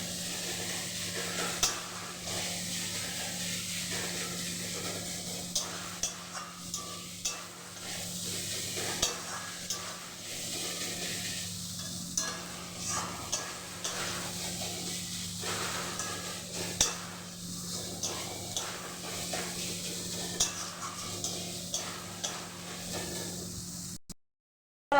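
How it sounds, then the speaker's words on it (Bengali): Goat mince frying in a pan, a continuous close sizzle broken by frequent scraping stirs of a spoon against the pan, steady and alone for the whole stretch. "আর একটু 2 থেকে 3 মিনিট মতো খালি এইভাবে ভেজে নেব"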